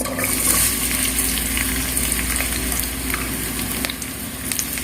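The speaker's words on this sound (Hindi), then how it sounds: "हमने घी फ्लेम पे रख दिया है। इसमें डाल देंगे प्याज।" Onions frying in hot ghee on the flame for a Pakistani-style chicken biryani make a dense, steady hiss and sizzle that holds evenly from start to finish, close by, with no talking over it.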